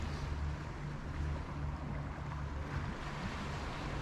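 Sea water washes against the shore along a promenade walk from Larne to the Black Arch in County Antrim, a steady broadband wash with a low hum running beneath it, continuous and fairly close.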